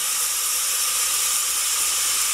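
Onions fry in a pan, giving a loud, steady sizzle and hiss that holds without a break and with no talking.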